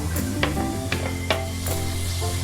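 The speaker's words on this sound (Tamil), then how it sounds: "நம்ம கட் பண்ணி வச்சிருக்க தக்காளியை ஆட் பண்ண போறோம்" Masala and tomatoes fry in a pan for fish biryani, a continuous close sizzle broken by several soft stirring scrapes, with a faint steady hum underneath.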